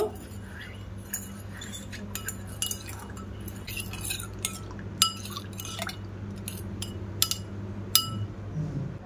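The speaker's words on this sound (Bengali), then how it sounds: "ওই আমলকি আর পেয়ারার পাতার রসের মধ্যে আমি এটা দিয়ে দিলাম। দিয়ে ভালো করে মিশিয়ে নেব।" Shampoo is stirred into amla and guava leaf juice in a container, producing light clinking taps and liquid swishing at close range, with sharp clinks repeating irregularly over a quiet background hum.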